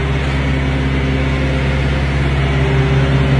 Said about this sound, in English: Reefer units, refrigerated trailers.